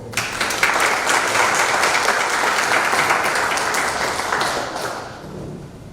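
Audience applause for a speaker at a lecture on Peru's nobles and caciques, dense and steady at close range for about five seconds, then thinning out as it fades at the end.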